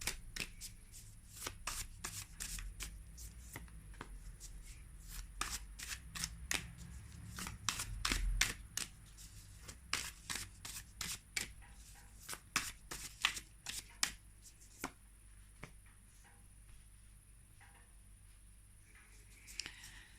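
Tarot cards are shuffled and drawn close by, giving a long series of crisp riffling flicks and soft slaps. The sound is quiet and comes in uneven bursts.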